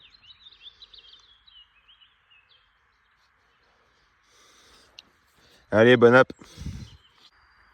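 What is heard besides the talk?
birdsong in a field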